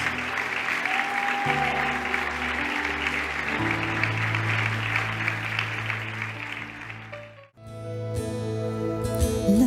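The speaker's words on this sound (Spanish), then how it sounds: "dale un aplauso al Señor entonces" A church congregation applauds steadily throughout a worship service, the clapping blending with sustained keyboard and organ-like chords, with a brief lull near the end before the music and clapping swell again.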